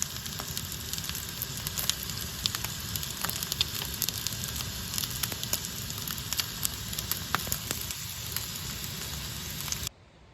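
Food fries in a pan on a camping stove, a steady close sizzle with scattered pops and crackles, cutting off abruptly near the end.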